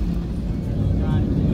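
An airplane engine on the runway before takeoff gives a steady low rumble, loud and continuous with a broad droning hum and no distinct changes in pitch.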